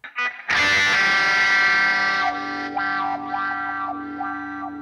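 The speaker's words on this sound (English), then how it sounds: "So you can hear the wah going." Wah pedal effect on a Neural DSP Quad Cortex guitar processor: a loud distorted guitar chord rings out, then the tone sweeps up and down in several rhythmic wah swells as it sustains.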